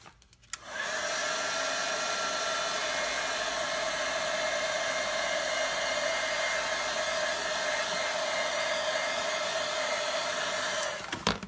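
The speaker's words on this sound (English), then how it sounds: "let's take the heat tool and set it" A heat tool blows hot air to dry freshly stamped ink, switching on with a steady, loud whirring hum that holds evenly for about ten seconds and then shuts off, with no talking over it.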